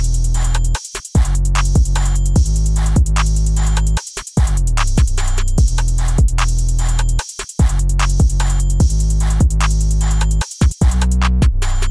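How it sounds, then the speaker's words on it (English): Programmed emo plugg drum pattern with kick following the 808 bass, hi-hats and snares over sustained 808 tones, a steady loud electronic loop without voices. "All the drums should sound something like this."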